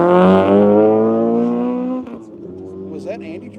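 A Camaro race car on a track, its engine droning loud and steady as it holds high revs, then dropping away, with a voice speaking over the roar.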